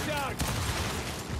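Shotgun blasts from the video game Gears 5 in a dense, busy firefight, booming over continuous game noise with a voice talking briefly at the start.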